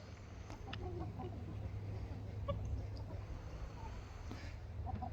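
Soft, scattered hen clucks over a steady low rumble of outdoor background noise, fairly quiet and continuous throughout.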